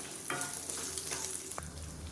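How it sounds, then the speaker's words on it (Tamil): About fifteen small peeled onions sauté in a pan with a continuous close sizzle, broken by a few brief stirring scrapes. "வெங்காயம் நல்லா வதங்கிடுச்சு"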